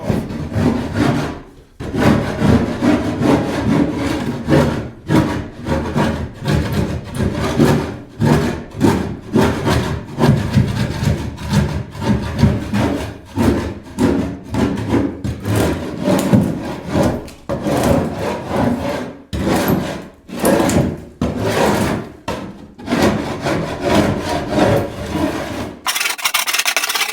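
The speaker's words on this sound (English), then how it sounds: "I'm just using a conventional ice scraper, chipper. So I scrape it off, see how it scrapes off." Continuous rough scraping as an ice scraper chipper rasps foam and resin off an ice shack, loud and close with steady back-and-forth strokes and only short breaks.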